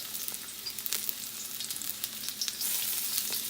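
Garlic and red chili pepper fry in hot grapeseed oil, giving a steady close sizzle with scattered crackles and pops throughout, alone without talk.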